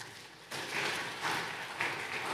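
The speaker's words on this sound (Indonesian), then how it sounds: "Tepuk tangan untuk kita." A church congregation breaks into applause that starts abruptly and swells in a few waves, clapping at moderate level and filling the room.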